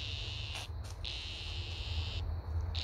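A captive cicada makes a quiet, steady high-pitched buzz with a few brief breaks and flickers, heard close up over a low background hum, with no voices.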